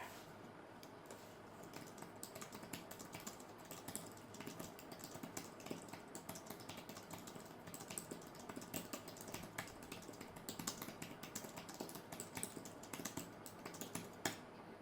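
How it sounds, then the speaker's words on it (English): Someone types on the keyboard of an Honor Pad 10 tablet, producing soft, quiet key clicks that continue steadily and close up over a faint background hum. "let me try to type something on this keyboard"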